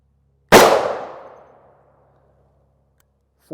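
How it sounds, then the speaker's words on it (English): A single loud, close gunshot strikes a Level IIIA ballistic backpack plate with a sharp metallic crack that rings and decays over about a second, followed by quiet. "This shot is hopefully going to be right dead center of the plate."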